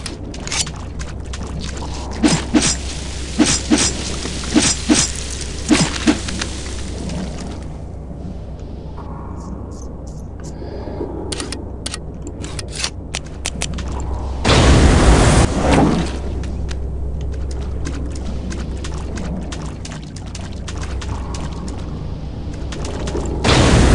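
Weapon fire blasting alien eggs in Alien vs Predator 2, loud bursts of rapid gunfire in clusters over a low droning hum, with a heavier explosive boom midway and more scattered shots after.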